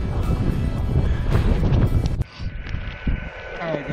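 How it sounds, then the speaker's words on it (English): Strong, gusty wind roars and buffets across a smoke-covered mountaintop at 2,112 meters, loud and continuous before abruptly dropping to a quieter rumble with lighter gusts. "The wind's brutal, smoke sucks."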